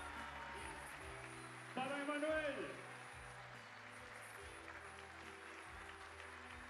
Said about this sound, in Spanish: Fuerte el aplauso para cada una de las voces